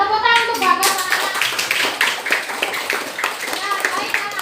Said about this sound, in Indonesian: tepuk tangan untuk Bagas